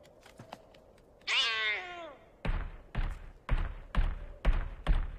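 Cartoon cat lets out one drawn-out, rising-and-falling meow, followed by a steady series of six dull thumps at an even beat, all fairly faint with no talking.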